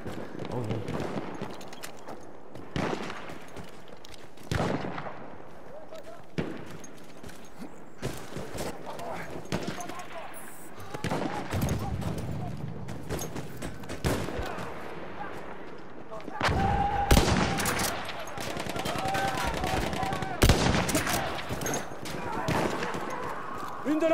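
Mitrailleuse machine gun in the Battlefield 1 video game firing in scattered sharp cracks and short bursts, followed by a denser run of rapid shots, mixed with distant booms, footsteps and someone talking.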